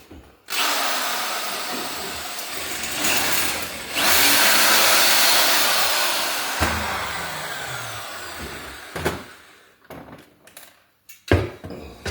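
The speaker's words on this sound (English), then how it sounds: "Just needs a touch of the drill." A power drill whirs loudly for several seconds, winding down, then a few brief bursts and clicks of the tool follow near the end.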